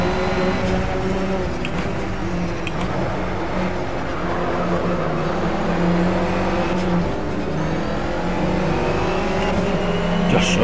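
Renault Clio Cup race cars in the video game Project Cars at Donington Park GP, a 38-car field whose engines drone and rev continuously with rising and falling pitch as cars pass close, a dense, steady racing roar with no speech.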